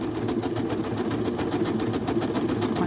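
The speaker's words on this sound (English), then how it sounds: "I never ever cease to be fascinated watching how these machines work and stitch the patterns out." Janome sewing machine stitching out a decorative snowflake pattern, a continuous close mechanical whir with a rapid pulsing needle rhythm throughout, no voices.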